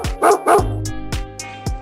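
A dog barks in a kitchen: two sharp close barks followed by several shorter yips and whimpers, loud and alone without speech.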